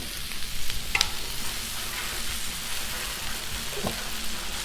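Two pounds of shrimp for fajitas fry in olive oil on a Blackstone griddle, a steady close sizzle and crackle with the odd scrape and tap of a spatula.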